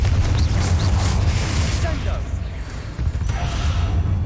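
Bombarda and Confringo spells detonate in the Hogwarts Legacy video game, producing heavy, rumbling booms and layered blasts that run continuously at high loudness, with crackling debris on top and short bursts of in-game sound mixed in.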